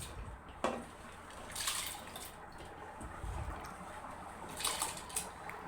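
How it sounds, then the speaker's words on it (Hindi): Mixed lentils are rinsed in a bowl of water for haleem, giving intermittent sloshing and splashing bursts with faint drips in between, close by and fairly quiet. "सबसे पहले पानी में आप इन सब दालों को, जिन्हें आप धो लेंगे पहले पानी में, और अच्छे से धोने के बाद उसे पानी में डाल लें"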